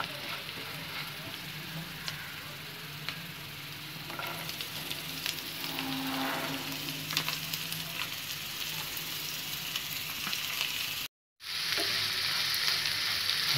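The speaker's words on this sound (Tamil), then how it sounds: "இது வந்து கொஞ்சம் வதங்க ஆரம்பிச்சிடும்" Steady sizzling of beans and carrots sautéing in a hot pan for rava kichadi, continuous and close, with occasional stirring scrapes and a brief dropout near the end.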